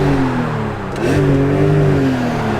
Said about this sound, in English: This is stock exhaust.